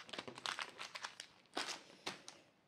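A torn plastic packet is crinkled and handled close up, with bursts of crackly rustling that come in uneven clusters and then two sharper crumples near the end, with no talking.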